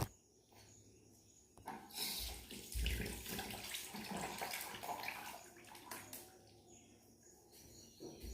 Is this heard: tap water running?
yes